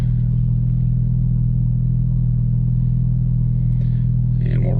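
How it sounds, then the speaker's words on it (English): Interior cabin sound of a Porsche 991.2 fitted with a SOUL Performance exhaust at idle: a steady, loud low drone with a faint rustle near the end. "here is interior noise at idle"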